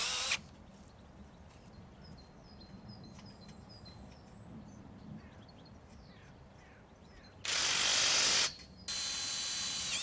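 A power drill drives a self-drilling screw through a P-clip on the hoop of a storm strengthening kit, sounding as two loud, close bursts of steady whirring near the end, with faint bird calls behind.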